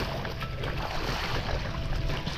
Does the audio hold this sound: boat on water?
yes